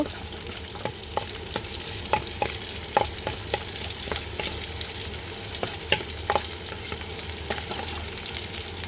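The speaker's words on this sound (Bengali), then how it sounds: "এবার তেল দিচ্ছি পেঁয়াজগুলো সামান্য লাল করে ভেজে নেব" Chopped onions fry in hot oil in a pan for a curry of mola fish with pointed gourd and tomato, giving a steady sizzle with repeated stirring scrapes and taps throughout.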